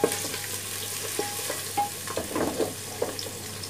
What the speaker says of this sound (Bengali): এখন অ্যাড করবো পেঁয়াজ কুচি। গোল্ডেন কালার না হওয়া পর্যন্ত নাড়তে হবে।